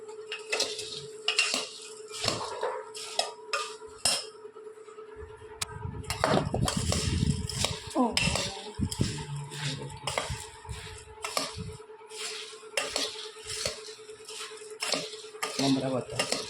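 Spoon clinking and scraping against a steel bowl while bhel ingredients are mixed at home, with puffed rice, mango and capsicum; irregular close metallic taps and stirring scrapes run throughout, with a brief stretch of softer rustling in the middle.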